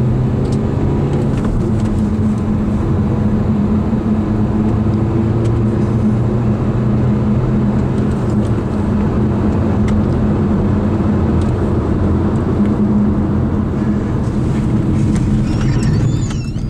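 Renault Megane 1.5 dCi diesel car accelerating from 0 to 100 km/h, a loud, steady engine drone heard from inside the cabin with rising and shifting tones as it pulls through the gears.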